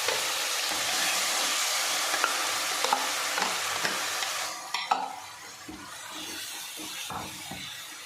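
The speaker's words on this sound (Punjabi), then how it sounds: "ਜੀਰਾ ਪਾ ਲਿਆ ਕੜਾਹੀ 'ਚ" Cumin seeds fry in oil in a kadhai while being stirred for a pumpkin kofta curry, giving a loud, close sizzle that drops sharply partway through, leaving quieter crackles and scraping stirs.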